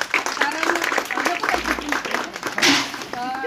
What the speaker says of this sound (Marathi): एकदा तुम्ही जोरदार टाळ्या होऊन जाऊ द्या